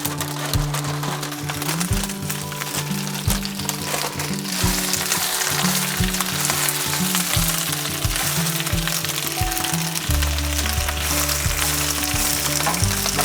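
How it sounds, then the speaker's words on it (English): Spinach sautés in hot oil in a pan, sizzling steadily and crackling up close while it is tossed, with repeated knocks and scrapes of the pan and utensil. "put the spinach in for a quick saute"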